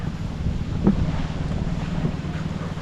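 Steady wind buffets the microphone with a low, rumbling roar, moderately loud and continuous, with faint splashing water underneath.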